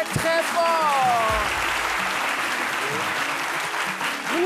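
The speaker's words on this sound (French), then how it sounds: "je vous demande d'applaudir très très très fort" A crowd of new baccalaureate students applauds loudly and steadily in a hall, with some voices and shouts over the clapping at the start.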